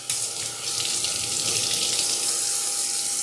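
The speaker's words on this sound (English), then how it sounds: "I'm going to wash my hands real quick." Hands are washed under a running kitchen tap while cooking steak spring rolls, a steady close rush of water splashing into the sink with a faint constant hum beneath, heard alone without talk.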